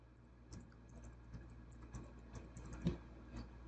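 Camera IP address being keyed in on a computer keyboard while an IP camera is configured, heard as a quiet run of light, uneven key taps with one sharper press near the end, no voices.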